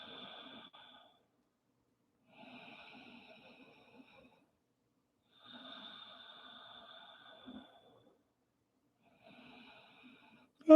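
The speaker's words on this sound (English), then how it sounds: "Keep that deep breathing. Make that sound so you can hear it in your ears." Deep, audible ujjayi-style yoga breathing during a resting pose, slow airy breaths repeating every few seconds with quiet gaps, close and soft.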